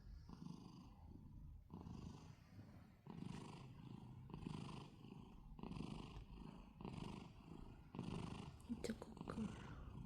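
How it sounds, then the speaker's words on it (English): A female cat being brushed purrs in a close, loud, rumbling rhythm of repeated breaths that go on throughout. A soft voice speaks gently over it. "She's purring up a storm."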